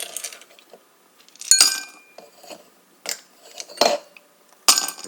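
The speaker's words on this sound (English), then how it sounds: "you put the ice cubes into this" Ice cubes dropped into a glass for an iced cherry Coca-Cola, giving several bright clinks and clatters in separate bursts with short pauses, close and fairly loud, no talking.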